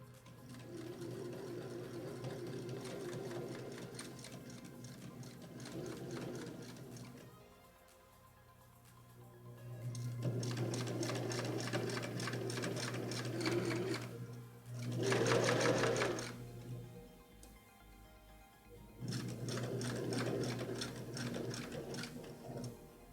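Sewing machine stitching a fabric mask, running in long steady rapid bursts with a humming motor and fast needle chatter, pausing briefly between runs, close and clear.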